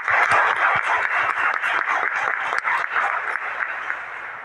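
A congregation claps for thirteen children during a Catholic Mass, sustained, fairly loud applause with crisp individual claps throughout, gradually thinning toward the end.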